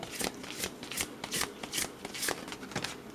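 Oracle card deck being shuffled by hand, a steady run of close riffling and soft slapping bursts roughly every half second with no talking.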